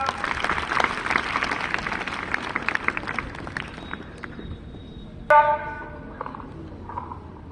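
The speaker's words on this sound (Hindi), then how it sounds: "हम तालियों के साथ स्वागत करते हैं राजेश सर का" Students at a career counseling session at Krishna Inter College applaud to welcome a speaker. Dense clapping fills the first few seconds, thins out and dies away, and then a sharp clatter and a few scattered noises follow.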